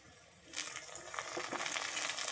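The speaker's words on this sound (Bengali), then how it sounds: "পনিরটা দিয়ে আমি একটু ভেজে নিচ্ছি" Cubed paneer dropped into hot oil in a pan for vegetable pulao, a sudden loud sizzle that bursts in after a quiet moment and keeps crackling steadily.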